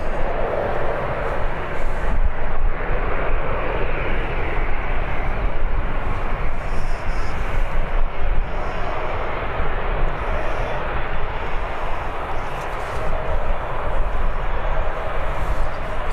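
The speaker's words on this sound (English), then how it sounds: "Nicely down by the TUI pilots there." A TUI airliner touches down at Birmingham airport, its broadband engine roar steady and fairly loud for the whole stretch, with no voices over it.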